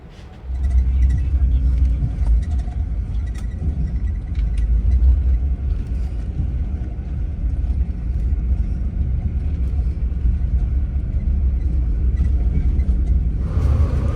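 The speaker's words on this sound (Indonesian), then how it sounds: "Di Red Bus Lounge ini kan emang bus-bus pada berhenti di sini nih, jadi macet cuy." Buses and cars idling and creeping in congested traffic at a Red Bus Lounge stop, where buses pull in and halt; a steady, loud low engine rumble runs throughout without speech.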